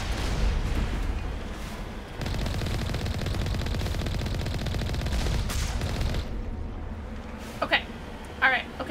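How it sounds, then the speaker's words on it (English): Turret gunfire in Mass Effect: dense, rapid automatic bursts roar continuously for several seconds, then stop, leaving scattered sharp zaps and blasts. Someone talks throughout. "Fucking turrets out here."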